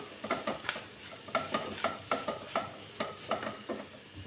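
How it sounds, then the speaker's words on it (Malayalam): Spices and coriander powder roast in a pan for chicken kurma while a spoon stirs in quick, regular scraping strokes over a soft, faint sizzle. "ഇതെല്ലാം കൂടിയിട്ട് നമുക്കൊന്ന് മൂപ്പിച്ചെടുക്കാം."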